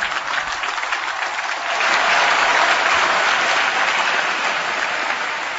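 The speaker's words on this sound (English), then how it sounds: "Let's give our graduates a tremendous round of applause." A large crowd applauds graduates at a graduation ceremony, the clapping swelling louder after a couple of seconds and holding steady to the end.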